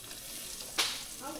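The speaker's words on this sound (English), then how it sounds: "Putting that fish in the oil. That sizzling tells us it's good." Mayan cichlid and bluegill fish meet hot frying oil with a sudden burst of sizzling that flares up and fades under a quiet background hiss.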